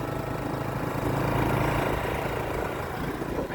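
A motorcycle engine runs steadily up close on a field, a constant rumbling drone with no talk over it.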